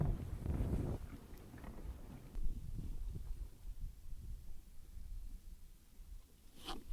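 Wind gusts over a lake at a fishing dock, a steady low rumble buffeting the microphone, heaviest in the first second and then easing into a continuous breathy roar.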